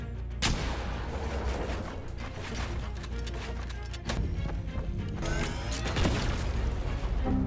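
Gunfire in the Fortnite video game: sharp loud shots and heavier impacts scattered through a busy, steady battle din, with several distinct cracks near the start and later on.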